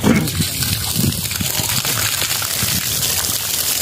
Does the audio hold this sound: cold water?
yes